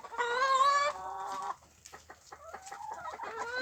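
Hens cluck and squawk in a backyard chicken coop, a loud drawn-out call followed by a run of short, choppy clucks nearby, with no talk.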